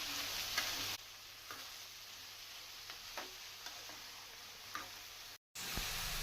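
Ridge gourd curry being stirred in a pan on the stove, with a soft steady sizzle and faint scraping clicks of a spoon, quiet and close.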